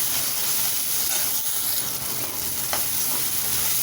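Bottle gourd and vegetables for Manchurian balls sauté in a pan over a full high gas flame, producing a loud, steady sizzle and hiss throughout with occasional stirring scrapes.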